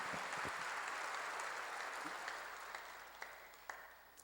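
A church congregation applauding during a sermon, faint, dense clapping that fades gradually with a few sharper claps near the end.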